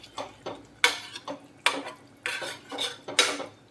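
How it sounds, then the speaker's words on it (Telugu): A utensil scrapes and clinks against a pot while stirring cabbage and egg curry, a series of sharp metallic knocks in an uneven rhythm, close and fairly quiet with no talk. "ఒకసారి మిక్స్ చేసుకొని"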